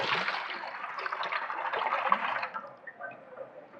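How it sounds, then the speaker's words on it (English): Water gushes steadily from two bottles emptied together into a vessel, a dense close pour that thins to a lighter trickle near the end, with no talk. "now I will be emptying both of these bottles in the vessel at the same time"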